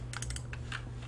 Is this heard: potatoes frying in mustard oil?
no